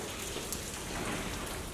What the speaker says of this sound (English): Being in the rain too just adds such a vibe in here.